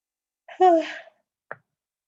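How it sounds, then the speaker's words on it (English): A single drawn-out yawn with a voiced, falling moan, followed by a short click or breath a moment later, close and otherwise quiet. "Sorry for the giant yawn."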